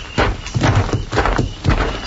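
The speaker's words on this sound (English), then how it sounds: "The horses, there's somebody out there." Horse hooves clip-clop in an old-time radio drama sound effect, several steady hoofbeats drawing closer with a brief whinny, fairly loud and close with no talk over them.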